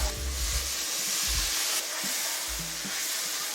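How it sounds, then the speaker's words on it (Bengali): Spice paste frying and being stirred in a pan for a jackfruit and paneer curry, a steady bright sizzle with scraping strokes of a spoon, close and continuous, no talking. "এবার এই মশলাগুলোকে আমি ভালো করে কষিয়ে নেব।"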